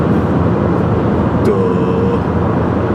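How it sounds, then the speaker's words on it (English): A car accelerating in the fast lane on a drive home, a steady low engine and road roar filling the cabin with constant tire noise and a faint brief squeak partway through. "Right over to the fast lane and throttle up."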